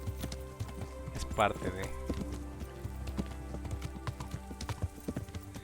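Hooves clip-clop at a riding pace in Kingdom Come: Deliverance, a steady beat under someone talking in Spanish, with a short whinny early on.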